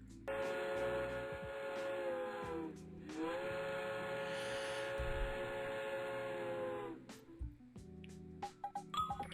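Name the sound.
train steam whistle from a video game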